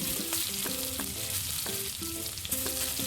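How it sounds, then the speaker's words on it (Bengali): Snails (gugli) fry in oil with a constant hissing sizzle and repeated spatula scrapes. Tonal music runs beneath and stays fairly loud. "বেশ ভালো করে ভেজে নেব"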